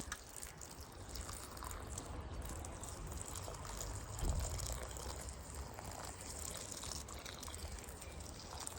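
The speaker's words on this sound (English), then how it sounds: "I'm just going to get my watering can and water them in" A watering can sprinkles water over newly planted peas in a garden bed, a faint, steady hiss and patter running evenly with no talk.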